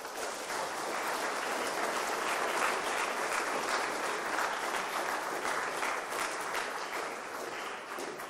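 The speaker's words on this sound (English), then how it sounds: "Nice round of applause for Steve," Steady, dense applause from an audience at an animal anatomy modeling lab talk, sustained at even loudness for the whole stretch with no voices over it.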